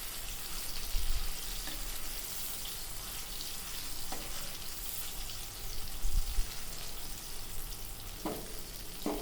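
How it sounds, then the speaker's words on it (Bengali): Raw banana koftas made with prawn paste fry in hot oil, a dense, continuous sizzle close up, with a few soft knocks and stirring touches along the way. "তেলটা একটু গরম হতে কোফতাগুলো ছেড়ে দিলাম"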